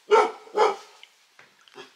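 A dog gives two sharp, loud barks close by, followed by a few faint, softer yips and huffs.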